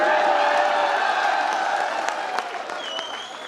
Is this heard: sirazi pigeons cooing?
no